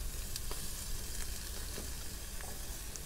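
Calamari squid cooking over an outdoor fire, cave-man style after a fishing trip, gives a constant close sizzle and crackle, with occasional sharper pops and spits over the even frying hiss.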